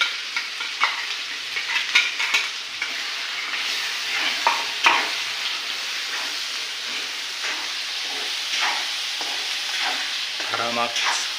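Ground masala paste of onion, garlic and ginger fries for a village-style fish curry, giving a loud, continuous sizzle, with a spoon scraping and stirring it at irregular moments.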